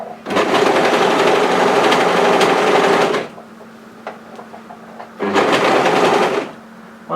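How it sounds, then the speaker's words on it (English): Serger running in two bursts while stitching through fabric layers along a hoodie side seam: a long steady buzz of about three seconds, a pause with faint handling noises, then a second shorter run, close and loud. "we want to pull it out of the way and only serge through the 2 layers of the side seam"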